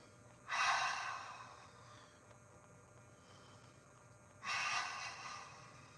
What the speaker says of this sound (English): Take a 10 deep breaths here